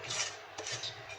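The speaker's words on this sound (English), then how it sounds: "just need to scrape the rest of that out of your pan onto that and flatten it out for me" Spatula scraping the last of a mixture out of a pan, a soft rasping rub in two short strokes, close and quiet.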